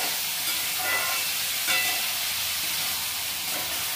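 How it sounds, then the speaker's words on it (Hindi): Carrots and potatoes are stirred in a frying pan, a steady bright sizzle and hiss with a few spatula scrapes, close and continuous with no voices. "अब वो गाजर और आलू को अच्छे से मिक्स कर लेते हैं।"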